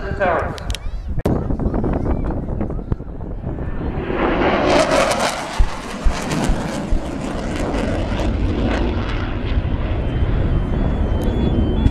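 Low-level, high-speed pass by a Tornado GR4 jet at a seaside air show, building into a loud, broad roar midway and holding steady to the end, with a commentator talking over it.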